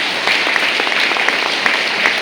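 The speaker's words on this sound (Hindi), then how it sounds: "इससे ज्यादा सिस्टम के लिए और सीनियर के लिए जोरदार ताली होना चाहिए" Audience applause in a hall after a speech at a Gold Achiever life-journey event, a steady dense wash of clapping filling the whole stretch with no talk over it.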